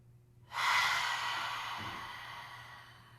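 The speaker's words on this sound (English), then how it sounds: "And again, big breath in." A deep breath drawn in during a throat chakra breathwork meditation, a single long, airy inhale that starts abruptly, close and clear, then slowly tapers off in an otherwise quiet space.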